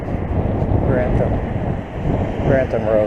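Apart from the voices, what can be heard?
brisk chilly north wind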